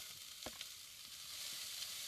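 Chopped onion frying in a pan while making a fish chilli curry, a steady close sizzle with brief stirring scrapes, no talk.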